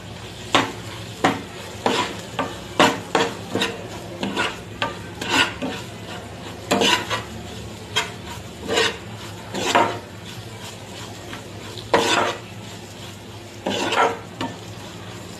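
Spices fried in a pan while being stirred, with repeated scraping strokes over a steady, quiet sizzle; no one speaks.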